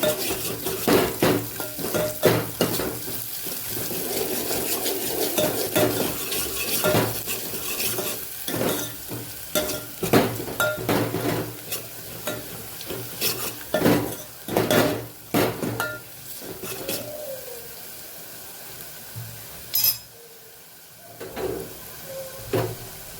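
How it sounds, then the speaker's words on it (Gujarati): Garlic and onion sauté in hot oil for a tempering for Kathiyawadi urad dal, with a steady sizzle broken by repeated scraping strokes of a spoon and clinks against the pan, close and clear. "ઢીલું લસણ એને પણ સરસ આપણે સાતડી લેવાનું છે"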